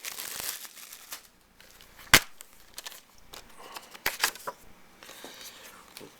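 Plastic wrapping crinkles inside a Blu-ray case in a few soft, scattered bursts, with one sharper crackle standing out, close and fairly quiet.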